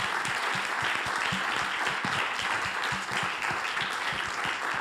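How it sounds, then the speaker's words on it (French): Audience applause at a conference event, a steady dense wash of many hands clapping, moderately distant and continuous, with faint voices underneath. "Je pense qu'on peut applaudir nos deux intervenantes."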